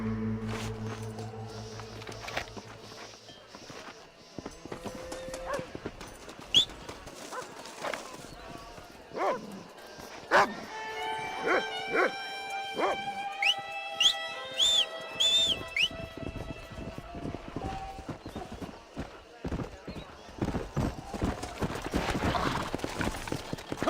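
Horse galloping in the Western video game Red Dead Redemption, with rapid hoofbeats and clip-clop under game music, whistles and a dog barking; speech is present throughout.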